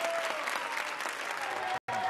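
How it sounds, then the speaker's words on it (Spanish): Steady audience applause for a group on a Spanish-language TV competition show, a continuous wash of clapping that cuts out for a moment near the end. "pido un aplauso para el grupo, por favor"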